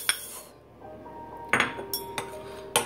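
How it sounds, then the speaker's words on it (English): Eggs go into a cookie mixing bowl for peanut butter chocolate chip cookies: a sharp crack, then a string of light clinks and taps of shell and utensil against the bowl, close and quiet, with no talking. "Next, I am going to add in two whole eggs."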